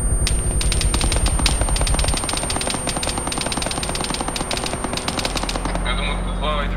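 Rapid bursts of automatic gunfire from the Arma 3 video game, dense and continuous throughout with loud, sharp repeated shots, some near and some further off.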